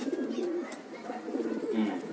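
Racing pigeons coo softly and continuously close by, a low rolling throaty murmur with overlapping calls from several birds.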